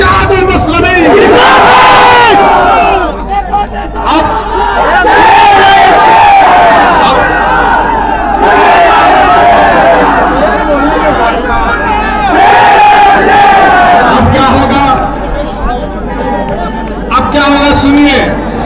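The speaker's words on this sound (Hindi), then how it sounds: "नारा लगा हमारे साथ, नारे तकबीर, नारे तकबीर, इत्तेहादुल मुस्लिमीन" A large crowd at a political rally roars the slogan "Nara-e-Takbir" in loud, repeated chanted bursts, the voices merging into a dense, continuous shout with brief dips between calls.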